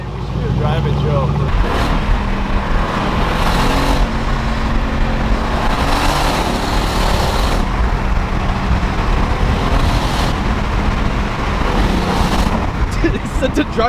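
Mercedes C63 AMG engine running loud and close, a deep continuous exhaust rumble with rough burbling pops throughout.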